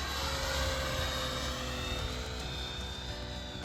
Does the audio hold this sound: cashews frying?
no